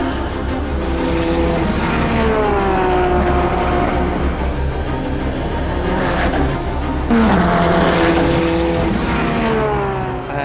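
Porsche race cars run side by side in a 2021 sports car race, their engines roaring loudly and continuously with rising and falling pitch as they pass close by.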